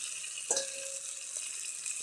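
Cut potatoes added to spiced oil for a jackfruit curry, giving a faint continuous sizzle with a brief clink or splash near the start, then a soft, even frying hiss.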